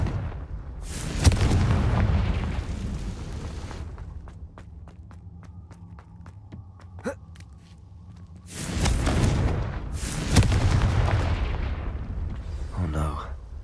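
Explosive Confringo spell blasts in the Hogwarts Legacy video game: two loud, booming bursts of rumbling fire several seconds apart, with softer crackling and clicks in between.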